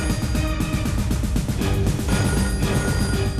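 A telephone bell rings in rapid repeated trills, loud and close, with a steady electronic tone running under the ringing throughout.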